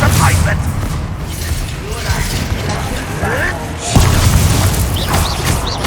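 Spell blasts and combat effects in Hogwarts Legacy, with heavy booms and mechanical clanks over game sounds, a strong impact near the middle-end, and shouted voices mixed in.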